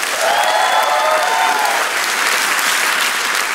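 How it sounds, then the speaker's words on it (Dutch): Steady studio audience applause on a live TV talk show fills the whole stretch, dense and even, with a few brief whistles or cheers rising above the clapping early on. "Maak een daft applaus voor Koen de Bouw!"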